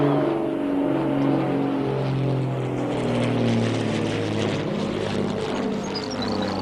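A propeller airplane coming in to land, its engine droning steadily and fairly loud with a slight rise and fall in pitch as it approaches.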